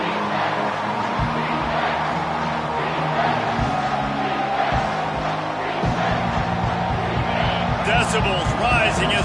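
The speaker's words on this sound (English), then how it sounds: "Decibels rising as the crowd gets behind this defense on 3rd down." A roaring stadium crowd in a football video game builds steadily during a third-down defensive stand, a dense continuous wash of cheering behind play-by-play commentary.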